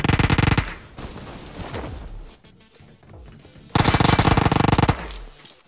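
Automatic gunfire in the BGMI mobile battle royale game: a loud sustained burst at the start, a quieter stretch of scattered shots and game sounds, then a second loud rapid burst near the end.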